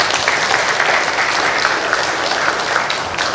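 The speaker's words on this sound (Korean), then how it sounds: "하나님께 영광의 박수 올려드리겠습니다" A church congregation claps together in loud, sustained applause, a dense even roar of hands filling the room from start to finish.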